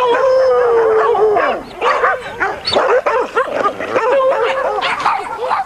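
Starving, thirsty dogs at an animal shelter howl and bark together in a dense, continuous chorus of overlapping howls, yips and whimpers, close and loud throughout.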